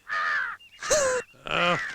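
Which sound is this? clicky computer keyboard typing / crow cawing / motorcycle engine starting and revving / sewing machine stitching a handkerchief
crow cawing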